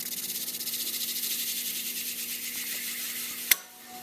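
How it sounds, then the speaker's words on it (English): A groove is cut into a leather edge burnishing tool, a soft rhythmic rubbing rasp repeated in quick even strokes, close and quiet, ending in a sharp tap. "what I'm doing right now is just giving myself a first groove"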